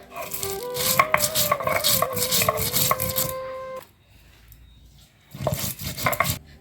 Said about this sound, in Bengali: এখন উঠায় নেব বেটে নিব দইনা